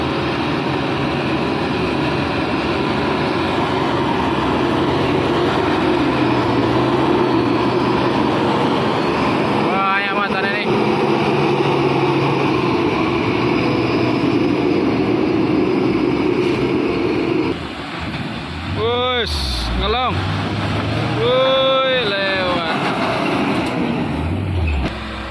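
Hino Ranger FM 226 truck engine labouring hard while towing a palm-oil truck, a loud sustained roar with deep rumble and shifting pitch, horn-like tones later, voices talking over it.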